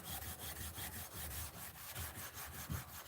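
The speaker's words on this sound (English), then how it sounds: "I'm doing more sanding. So getting this for like the final sand on the blade here." Sandpaper worked by hand across a wooden blade for a final finishing pass, a continuous dry rasping with steady back-and-forth strokes, close and fairly quiet, no voices.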